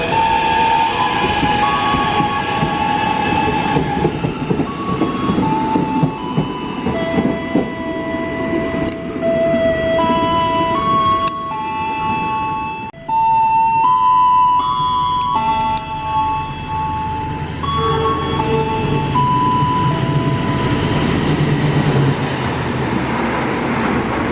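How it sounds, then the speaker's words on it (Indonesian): The Argo Muria 20A train passing on track 2 beside a station platform: a loud, close rumble of wheels and carriages with ringing tonal squeals and horn-like tones rising and falling, continuous for the whole stretch. "jalur 2-nya akan segera melintas kereta api Argo Muria 20A"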